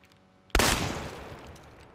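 A pump-action shotgun fires once in the video game Chernobylite, a single loud, close blast that decays over about a second and a half.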